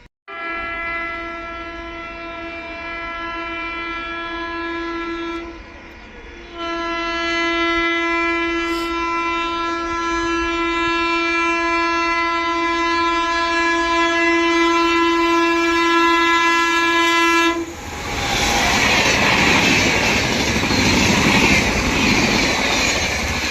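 A loud, sustained train horn blares with a short break, then the roar of the Barauni clone Humsafar Express 02563 rushing past takes over as it overtakes a MEMU train.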